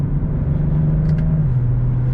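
A 2022 BMW M440i Coupe with rear-wheel drive cruises along, its engine holding a steady, loud low drone that dips slightly in pitch partway through, with road rumble underneath.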